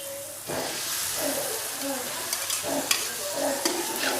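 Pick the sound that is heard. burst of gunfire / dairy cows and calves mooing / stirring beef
stirring beef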